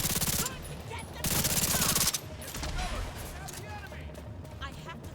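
Bursts of rapid automatic gunfire in the video game Tom Clancy's The Division 2, two loud volleys up close followed by quieter scattered shots, with a voice talking over them.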